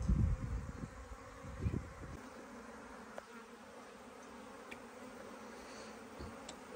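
A honeybee swarm drones at a hive, a dense steady buzz that stays loud and close throughout, with a few heavier low bumps and rustles in the first two seconds as bees move about the colony.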